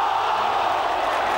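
A loud, dense roar from the crowd at Princes Park fills the air as Carlton play Geelong in a 1985 Australian football match, reacting to a holding-the-ball decision, sustained and close without a break.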